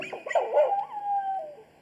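A rancher's border collie working dog on a mountain cattle ranch gives one close, drawn-out whining yelp that rises and then trails off, alone.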